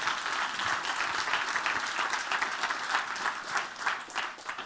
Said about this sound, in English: give them a nice round of applause as they join me on the stage